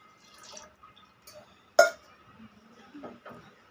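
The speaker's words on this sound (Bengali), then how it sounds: "এখন আমি 1 মগ দুধ নিয়েছি," Milk poured from a mug into a pan of gelatin powder and sugar for a jelly pudding, a brief splashing pour standing out among faint kitchen clinks and drips, close and fairly quiet.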